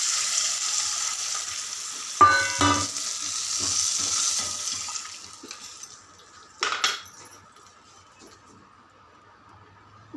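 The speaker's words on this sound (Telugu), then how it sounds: "కొంచెం మగ్గినాక చింతపండు పులుసు వేసుకోవాలి." Tamarind juice goes into a simmering curry, raising a sizzle and frying hiss with a few clinks of a spoon against the pot, loudest early on, then tapering to a quieter bubbling simmer.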